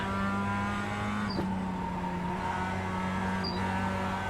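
A Mazda MX-5 Cup race car in iRacing at Okayama International Circuit holds a steady, droning engine note with a couple of brief shifts, heard alone and constant.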